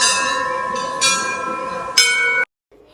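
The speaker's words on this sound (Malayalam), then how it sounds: "ഈ അമ്പലത്തിൽ എപ്പോൾ പോയാലും നമ്മൾക്ക് നല്ല മണിയുടെ ശബ്ദം കേൾക്കാൻ വേണ്ടിയിട്ട് പറ്റും" Metal temple bell struck by visitors, three ringing strikes about a second apart, each bright clang sustaining its tones until the ring is cut off abruptly near the end; loud and close.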